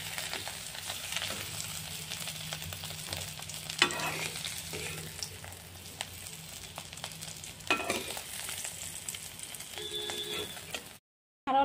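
Boiled eggs frying in mustard oil in a pan, a low steady sizzle with repeated sharp stirring clicks and scrapes, ending in a brief silence before a final burst.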